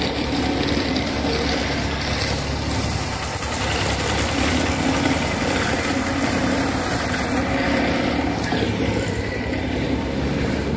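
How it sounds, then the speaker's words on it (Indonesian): A baby roller compactor idles on freshly compacted hotmix asphalt at a road paving job, giving a loud, continuous, rumbling engine drone with a rattling mechanical texture that holds steady throughout, without any talking. "Bisa dilihat ini hasil yang sudah dipadatkan menggunakan mesin baby roller."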